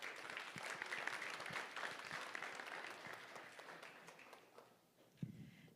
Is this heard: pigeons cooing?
no